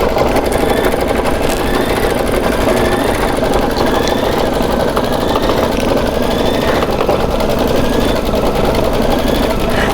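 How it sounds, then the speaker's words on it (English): An embroidery machine stitches a decorative border around a lemon applique with a fast, steady mechanical whirring and rapid needle chatter, continuous and close with no pauses. "It's actually doing this decorative stitch around the whole lemon right here."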